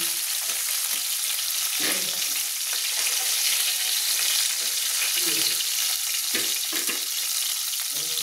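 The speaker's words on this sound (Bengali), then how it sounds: "দেখুন সুন্দরভাবে আমার চ্যাং মাছগুলো ভাজা হয়ে গেছে।" Chang fish fry in hot oil with a loud, dense, steady sizzle and crackle close up, along with a few stirring and scraping sounds.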